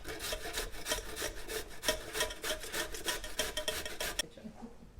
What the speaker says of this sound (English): So the first thing I usually want to start with is the grating of the zucchini.